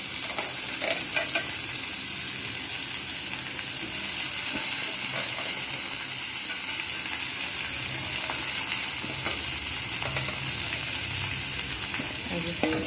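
Bitter gourd frying in a pan with potato, a dense continuous hiss and sizzle with faint stirring clinks throughout, close and steady.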